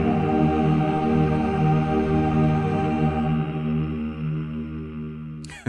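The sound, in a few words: MIDI male choir vocal sounds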